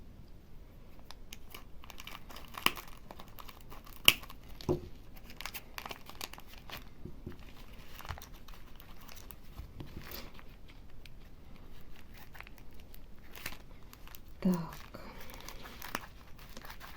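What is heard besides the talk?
unwrapping small plastic packets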